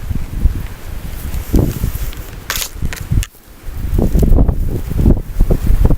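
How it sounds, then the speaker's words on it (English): Strong gusts of wind blow outdoors among fig and orange trees, buffeting the microphone with uneven rumbling bursts and rustling leaves that briefly ease before surging again. "the wind's really picking up now"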